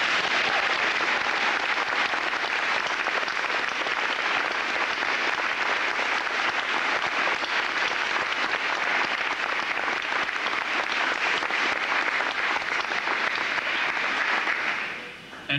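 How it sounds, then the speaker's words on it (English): Sustained audience applause for students and adults who helped at a RAK event, a steady dense wash of clapping lasting about fifteen seconds before cutting off abruptly. "I'd like you to recognize them with applause"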